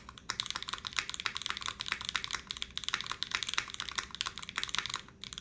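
Rapid, steady keystrokes on a modded KBDFans Margo mechanical keyboard with a slightly flat, stiff spacebar, close and clear, with dense overlapping clicks and no talking.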